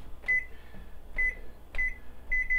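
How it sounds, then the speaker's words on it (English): A kitchen timer being set while deviled eggs and tuna burgers are cooked gives short electronic beeps, four of them spread unevenly across the moment over a low room hum, fairly faint and with no talking. "I'm going to set my timer here"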